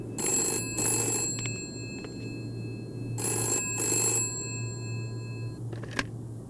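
A telephone bell rings in two double bursts, loud and close, with a steady hum underneath and a short click near the end; no one speaks.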